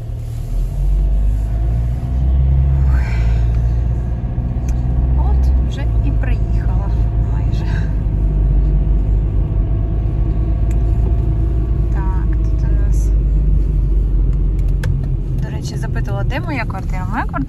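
A car drives along a city street past apartment buildings, its steady low engine and road rumble running throughout, with people talking inside the vehicle over it.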